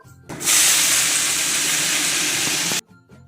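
Leafy greens and panch phoron dropped into hot oil in a kadai: a loud hissing sizzle bursts in abruptly and holds steady for over two seconds, then cuts off sharply, with quieter kitchen sounds either side.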